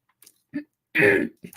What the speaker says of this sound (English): I hate coughing into the microphone